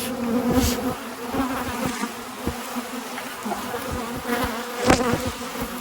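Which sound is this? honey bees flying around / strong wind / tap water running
honey bees flying around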